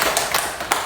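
Children clapping their hands in a classroom, a quick run of sharp, bright claps, fairly close and loud.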